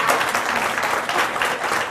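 An audience at a Cleveland mayoral debate applauds in a dense, steady burst of many hands clapping together, loud and sustained for a couple of seconds.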